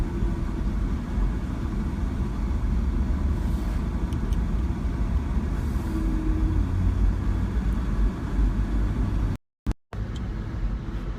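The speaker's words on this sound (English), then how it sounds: "Just going to take you for a drive around the streets of Cairns." A car drives through the streets of Cairns in far north Queensland, its engine and road noise a steady, loud, close rumble from inside the cabin, briefly cutting out near the end.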